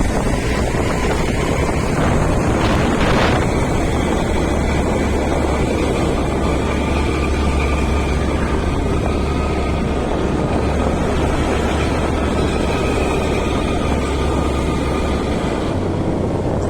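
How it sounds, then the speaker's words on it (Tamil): Rainwater gushing and pouring down in Yercaud after heavy rain makes a loud, steady, close roar that runs unbroken for the whole stretch, with no voices over it. "அங்க பாரு அந்த இடத்துல எவ்வளவு தண்ணி ஊத்துது. சத்தம் எப்படி இருக்குதியா?"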